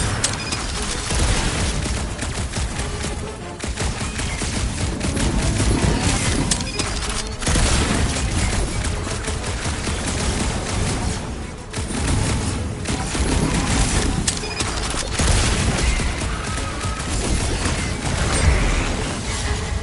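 Rapid gunfire from shooting enemies in the Guardians of the Galaxy video game, dense, loud bursts and booms running nearly continuously over a busy mechanical game soundtrack, with no talk.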